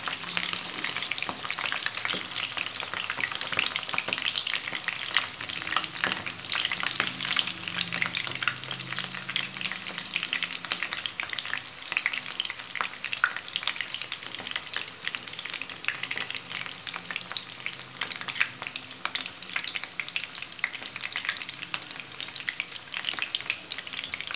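Food frying in a pan as pieces are turned over with a utensil, a continuous close sizzle and crackle broken by frequent scraping and clinking strokes, with no talk.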